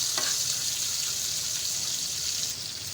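Steady, loud sizzling of chopped garlic frying in a hot pan, a continuous crackling hiss throughout with no voices.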